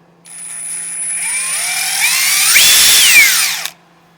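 Metabo HPT 18V triple hammer bolt impact tool runs in a single trigger pull of about three and a half seconds. The whine rises in pitch and loudness, with hammering rattle near the end, then stops abruptly.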